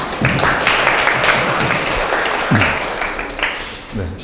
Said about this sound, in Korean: 그럼 큰 박수로 교수님 강연 들어보도록 하겠습니다